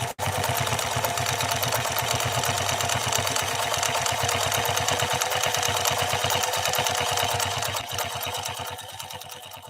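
A Pfaff 332 sewing machine stitches a decorative pattern, giving off a loud, steady, rapid mechanical clatter with a fast even rhythm that runs unbroken until it eases slightly near the end.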